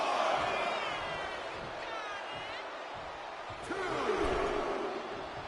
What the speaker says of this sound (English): And Rocky is revving this crowd up.